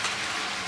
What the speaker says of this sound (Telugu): ఇప్పుడు ఇందులో ఆల్రెడీ మనం ఒక ½ అన్ అవర్ ముందు సోక్ చేసి పెట్టుకున్న బిర్యానీ రైస్ని దీంట్లో